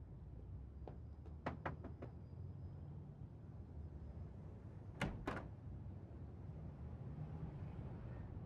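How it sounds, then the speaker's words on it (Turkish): Knuckles rap on a house door: a faint, quick series of sharp taps, then two more knocks a few seconds later, in an otherwise quiet, hushed setting. "Kapıyı çalar mısınız?"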